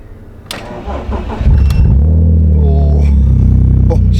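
A BMW E46 330Ci engine cranks briefly, then catches and settles into a loud, steady idle rumble close by.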